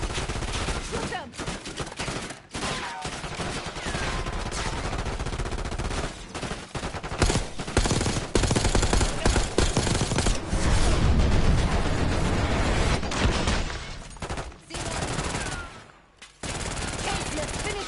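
Sustained automatic gunfire and rapid shots from a Call of Duty: Black Ops 6 campaign mission, loud and dense throughout with brief lulls, over faint background game voices.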